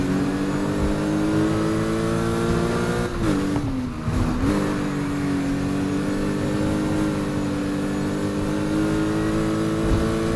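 A Lotus Exige S with a swapped, maxed-out engine drives in the racing game Need for Speed Heat, its engine droning steadily loud with a brief dip and shift in pitch partway, no voices.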